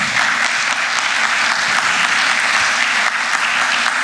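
An audience at a roundtable discussion applauds its three speakers, a dense, steady wash of clapping that stays loud and unbroken for about four seconds with no talk over it.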